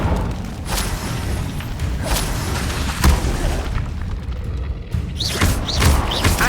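Repeated whooshing bursts of the Incendio fire spell in Hogwarts Legacy combat, several loud booming flares spaced about a second apart amid ongoing battle noise.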